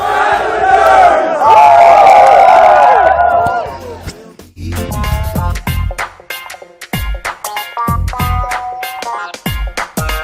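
A crowd roars and cheers loudly with overlapping voices for several seconds, then gives way to punchy music with sharp beats.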